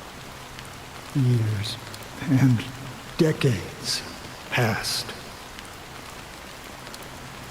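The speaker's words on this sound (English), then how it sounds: "how long has this rain been going on for?" Steady rain falls in the Honkai Star Rail game, a soft continuous hiss running throughout beneath calm spoken dialogue.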